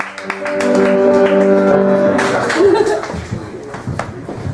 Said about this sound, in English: So everyone start clapping it up for Katie Zane.